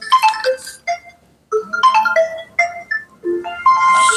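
A mobile phone rings from an unknown number with a bright electronic melody in repeated short phrases, loud and close, with gaps between bursts and no talking over it.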